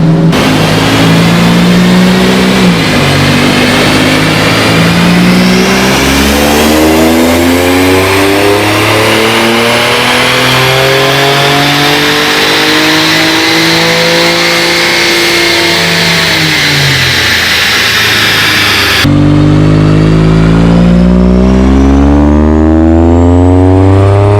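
Infiniti Q50 with a VR30 twin-turbo V6 revs hard on a rear-wheel-drive dyno, engine pitch sweeping up and down through repeated pulls, loud and close, with a sharp cut near the end.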